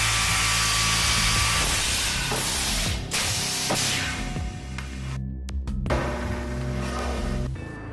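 A GANNOMAT Elite multiple drilling and dowel-inserting machine works a wooden panel, giving a loud, continuous whine of spinning drill bits with sharp pneumatic bursts and clunks from clamps and feeds.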